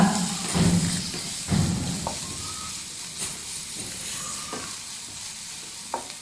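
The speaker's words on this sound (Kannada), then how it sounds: "ಈರುಳ್ಳಿ ಹಾಕಿ ಫ್ರೈ ಮಾಡ್ತಾಯಿದ್ದೀನಿ" Onions and curry leaves fry in a pan, a soft steady sizzle and hiss with occasional stirring scrapes and light clinks, no talking over it.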